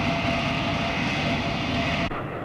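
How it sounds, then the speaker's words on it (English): A BAC One-Eleven short-haul jet airliner of the 1960s roars steadily and loudly with a broad engine rush that cuts off abruptly near the end. "the BAC 111, a 550-mile-an-hour short-haul jet airliner"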